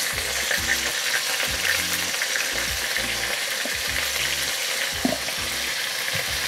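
Vegetables sizzle and fry in a pan with salt and turmeric while a spatula stirs them, giving a steady close hiss broken by soft scraping and knocking strokes, with no talk.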